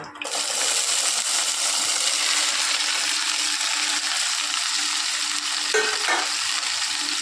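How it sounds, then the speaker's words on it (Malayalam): Rose apple pieces sizzle steadily in hot coconut oil in a pan, a dense continuous frying crackle close up, with a brief stirring clink near the end. "അപ്പോൾ അതേ നമ്മുടെ വെളിച്ചെണ്ണ ചൂടായിട്ട് നമുക്ക് ഇതിലേക്ക് ഇട്ട് കൊടുക്കാം ചാമ്പയ്ക്ക"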